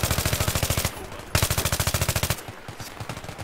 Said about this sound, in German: Ich schieß doch einfach nur